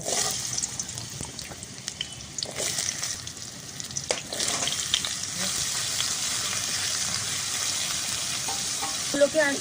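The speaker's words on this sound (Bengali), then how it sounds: "আলুগুলোকে এখন আমি লাল লাল করে ভেজে নেবো আলু ভাজা হচ্ছে" Cut potato pieces frying in hot oil in a wok, a loud, close, continuous sizzle with bubbling and occasional stirring scrapes throughout.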